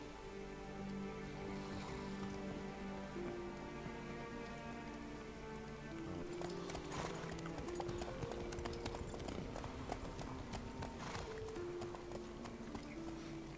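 A horse in The Witcher 3 clip-clops along at a steady trot, the hoofbeats rhythmic and close under a sustained musical score, with rain-like patter in the background.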